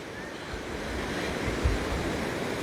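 Sea surf rolling in at Westward Ho beach under a biting wind, a loud continuous roar with gusty rumble buffeting the microphone, one stronger thump midway.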